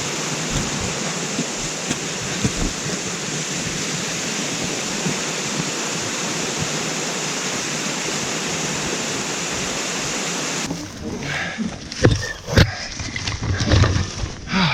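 A waterfall beside a wilderness canoe route roars as a steady, dense rush of falling water, loud and close, ending in a few seconds of nearer splashing and knocks.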